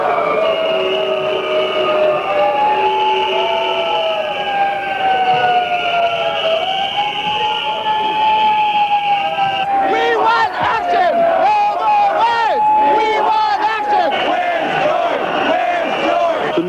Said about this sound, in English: The noise was deafening. Sirens, whistles, and shouting from about 200 AIDS activists